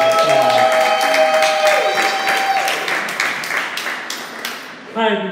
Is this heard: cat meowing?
no